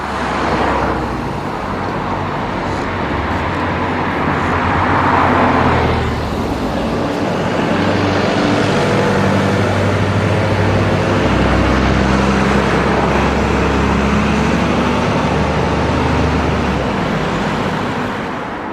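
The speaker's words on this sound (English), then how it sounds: "SE 187 makes heavy weather of the climb" London bus SE 187, fully loaded, straining up steep Wimbledon Hill, a loud sustained engine roar with low rumble, rising briefly near the middle and then holding steady over street traffic noise.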